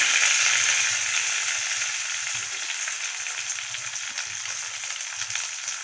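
Curry leaves and finely chopped onion frying in hot oil for a drumstick kara kuzhambu, a loud continuous close sizzle that eases slightly, with soft low stirring bumps underneath.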